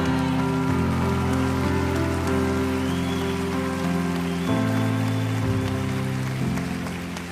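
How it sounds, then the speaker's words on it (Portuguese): Steady rain falls on a surface as a sound effect, a constant wash of drops laid under a sustained musical pad with shifting chords, no speech. "A chuva caiu do céu"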